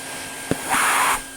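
A 1980 Spinney U62 budget vacuum cleaner with a screw-fitted hose gives a brief click, then its motor whooshes up into a steady airy hiss for under a second before cutting off.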